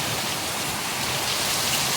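Heavy monsoon rain in Mumbai pouring off a sheet roof, a dense, continuous, loud hiss of water streaming and splashing without a break.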